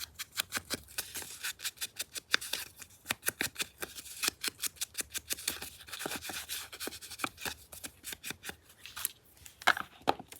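Scissors cut through paper tags for a Tim Holtz portrait paper doll tag book, giving a close, brisk run of crisp snips in quick, uneven bursts with no talking.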